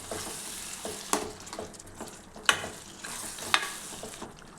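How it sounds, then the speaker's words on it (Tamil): Curd being stirred into bottle gourd gravy in a pan makes a soft, continuous sizzle, broken by three or four sharper scrapes and taps of a spoon against the pan. "தயிர் சேர்த்துட்டு நல்லா அதை கலந்து விடுங்க"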